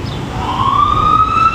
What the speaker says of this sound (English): There goes our sirens.